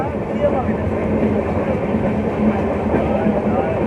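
Steady, loud rumble and rattling of a moving passenger train heard from inside a carriage, with continuous wheel-on-track clatter throughout and faint voices in the background.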